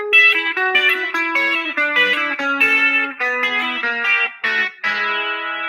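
Country-style hybrid picking lick played on a Les Paul electric guitar with pick and fingers, a quick run of bright, snappy plucked notes and double-stops with chorus and slight distortion, clear and alone.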